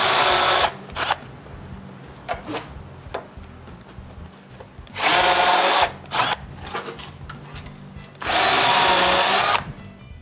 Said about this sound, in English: pre-drill pallet holes with a VIX bit